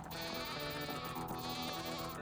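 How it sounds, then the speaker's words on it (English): Sheep bleating in a survival crafting video game, a continuous loud wavering bleat heard close up over a dense, busy backdrop of game sound, with no talking. "Here's a sheep."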